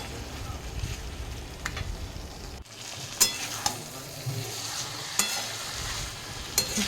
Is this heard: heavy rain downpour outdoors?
no